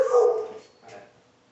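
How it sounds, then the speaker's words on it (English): Dogs at the Hopkins County Humane Society animal shelter in Madisonville, Kentucky bark and yip in a short burst, loud and close at first, then a fainter whimpering yelp follows. "they still have a few dogs here"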